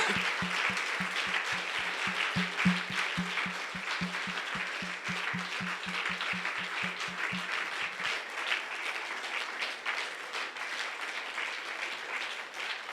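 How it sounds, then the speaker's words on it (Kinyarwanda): A church congregation applauding: loud, dense clapping that keeps a steady rhythmic beat for about seven seconds, then carries on as a looser continuous wash of applause. "Amashyi menshi ku mwami Yesu Kristo."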